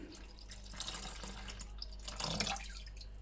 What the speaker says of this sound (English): I'm just going to put my sugar solution into the bucket.